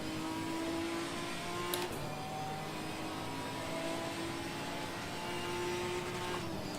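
A Ginetta race car at Imola, its engine held high near the rev limiter in a steady, droning whine with slight pitch shifts, loud and continuous from an onboard position.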